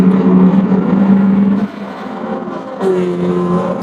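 Race cars roar at Daytona in Gran Turismo, a steady loud engine drone with whirring tones that shifts pitch as the pack runs together.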